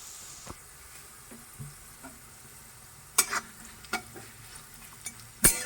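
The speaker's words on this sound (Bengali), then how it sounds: "তারপর এবার নেড়ে নেব" Vegetables fry quietly in a wok as a spatula scrapes and knocks against it several times, the strokes coming in irregular bursts over a low background sizzle.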